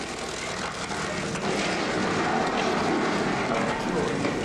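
Steady roaring drone of an airplane engine in old film footage, loud and continuous throughout, with some indistinct voices faintly mixed underneath.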